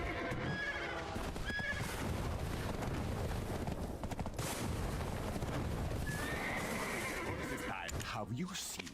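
Horse neighing and clip-clopping hooves from the Shovel Knight game sound effects, loud whinnies over steady hoofbeats and busy game noise, with a voice talking over it.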